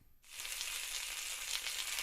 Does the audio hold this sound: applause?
no